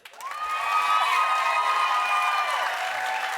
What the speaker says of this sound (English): clap if you think it ought to be Saul